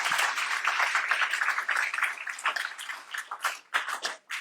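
An audience applauds a cycling record holder at a Cyclone Cyclists event, a sustained crowd of claps, dense at first, then thinning into scattered individual claps.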